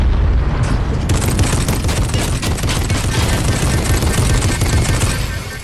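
Dense, loud burst of combat noise from a Fortnite match as a tank explodes, with broadband booms and rapid crackling gunfire sustained almost continuously for several seconds before easing slightly at the end.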